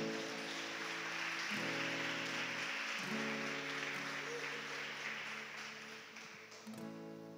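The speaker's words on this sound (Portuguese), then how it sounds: "Aplauda Jesus bem forte" Loud, sustained applause fills a church as the congregation claps together over steady held keyboard chords, then tapers slightly toward the end.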